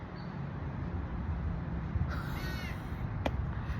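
A crow caws outdoors over a steady broadband background hiss, with a few short calls standing out near the middle and end of the stretch.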